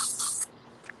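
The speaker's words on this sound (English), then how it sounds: "That's that off spray." Short pressurized hiss of OFF insect repellent sprayed from an aerosol can, two quick close bursts in under half a second, then quiet.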